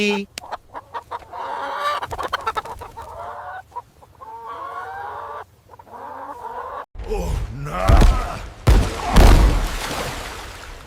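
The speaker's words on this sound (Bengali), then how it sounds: "মুরগি খুশি" Chickens cluck and squawk in bursts, with a rooster-like call and loud commotion toward the end.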